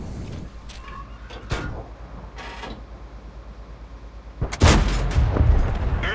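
Tank cannon fire in a video game, with a few muffled booms early on, then one loud, close blast near the end followed by a rumbling tail and mechanical noise.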